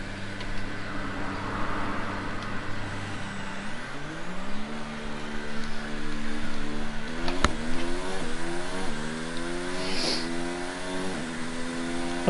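A Williams Formula 1 car in the F1 2019 racing game pulls away at winter testing, its engine revving loudly up through repeated rising sweeps with quick gear shifts, close and alone with no talk.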